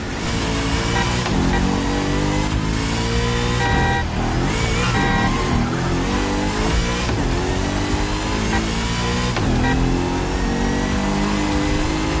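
Supercharged V8 car engine in The Crew Motorfest racing game, revving loudly and continuously with rising and falling pitch throughout, no voices over it.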